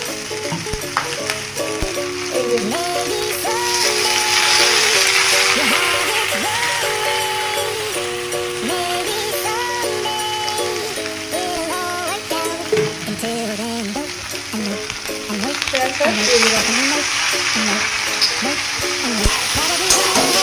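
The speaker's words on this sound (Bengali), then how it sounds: "এটাকে ভালো করে আরেকবার ভেজে নেবো" Pasta frying with vinegar and soy sauce in a pan, a continuous loud sizzle and crackle with stirring scrapes throughout, while music with a melodic line plays over the top.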